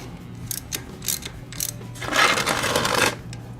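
A ratchet works loose the oil drain plug on a Kawasaki Vulcan 1600 Classic motorcycle, giving several quick clicking bursts up close, then a longer clattering stretch, with a low hum behind.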